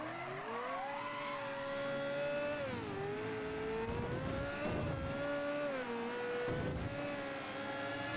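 Car in Mafia III cruising around town, engine droning steadily with rising and falling revs and gear shifts, close and continuous with no talk over it.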